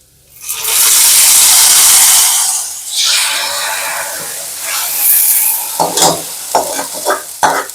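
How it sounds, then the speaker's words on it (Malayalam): Liquid poured onto browned onions in a hot pan for Kerala mor curry, a loud burst of sizzling and hissing steam that settles into steady frying crackle with a few stirring clinks near the end. "നമ്മുടെ ഉള്ളി മൂത്തു അതിലേക്ക് നമുക്ക് ഒഴിച്ചു കൊടുക്കാം"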